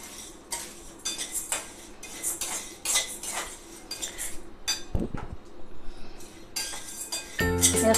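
Chana dal dry-roasting in a pan for homemade thalipeeth bhajani flour, stirred so the lentils rattle and a utensil clinks and scrapes against the metal in an uneven rhythm, close and moderately loud, with no talking.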